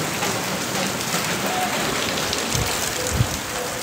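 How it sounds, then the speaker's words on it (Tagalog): Steady, dense rain pours down on an outdoor basketball court during a downpour, a continuous wash of patter with no talk, plus a brief louder thump near the end. "Naliligo kami ngayon sa ulan."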